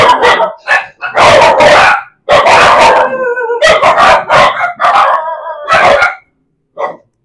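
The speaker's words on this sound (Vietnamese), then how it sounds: "Tại vì nó sủa nó không có ngừng luôn" A dog barks nonstop at close range, loud repeated barks and howling yelps in quick bursts with only brief gaps, during a visit to dogs that bark constantly.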